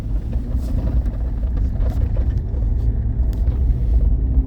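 A car accelerates during a braking drill, its engine rumbling low and steady with road noise close by, and light talk over it.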